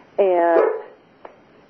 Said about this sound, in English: That's why your dog was barking.